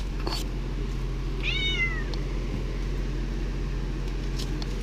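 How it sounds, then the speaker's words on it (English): A cat meows once, a short rising-and-falling cry, over a steady low hum in a room where an RV interior is being painted. "Freaking cat."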